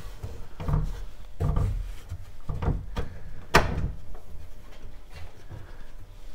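Top doors of a Victorian pine linen press are worked open, giving a series of dull wooden knocks and clunks spaced about a second apart, followed by a quieter rustle.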